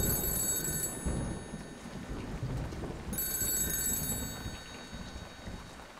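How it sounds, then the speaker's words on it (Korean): An electronic telephone ring sounds in two bursts over steady heavy rain at a military guard post, with a pause between the rings. "전화벨이 울리는 거예요."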